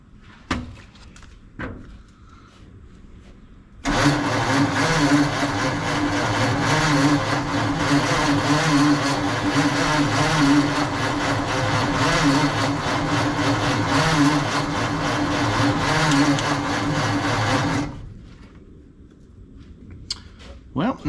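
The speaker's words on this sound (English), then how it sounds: "The engine's moving pretty good." A 1948 Ford F5 truck engine cranks over steadily on the starter for about fourteen seconds without catching, loud and close, with quieter handling sounds before and after.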